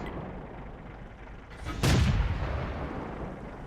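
A single booming tank cannon shot erupts in a tier 7 tank video game, fired at a higher-tier enemy tank, with a sharp onset and a rumbling tail over steady background game noise.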